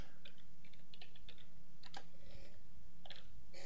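Typing on a computer keyboard while entering a column name, a quiet, irregular patter of key clicks in short bursts over low background hum, with no one talking.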